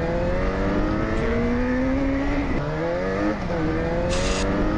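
A Yamaha XJ6 motorcycle engine in a video game drones and shifts pitch as it revs up and drops, a steady synthetic-sounding, glitchy roar with no talking.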